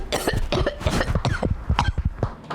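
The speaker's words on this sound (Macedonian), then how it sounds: "сосем случајно се закашлала бугарката" A woman coughs in a string of close, loud, rough bursts, several repeated coughs packed back to back without pause.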